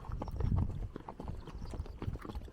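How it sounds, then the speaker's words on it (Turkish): Horse hooves pound the ground in a rapid, rolling galloping rhythm, close and moderately loud, with no talking. "Dört nal seslerini, atın nallarının sesini duyabileceğiniz"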